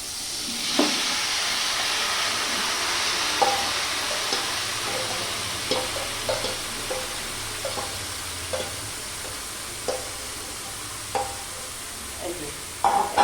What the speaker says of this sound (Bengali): দিয়ে আমি এবার এই যে মেখে রেখেছি এই মাখাই তরকারিটা ঢেলে দেবো এখানে।